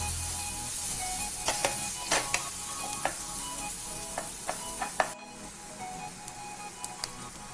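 Egg posto masala with turmeric frying in a pan, giving a steady low sizzle broken by sharp clicks of a spatula scraping and stirring, close by, and then a quieter stretch near the end.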